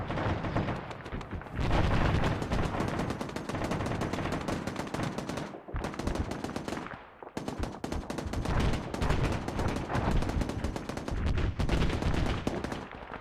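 Dense, continuous automatic gunfire and explosions in the military shooter game Arma 3, loud and close with sustained rapid bursts, a brief lull midway before the firing resumes.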